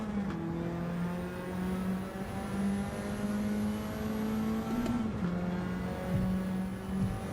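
A racing car engine drones and whines in a game, pitch climbing steadily through gears with a sharp shift partway, loud and close.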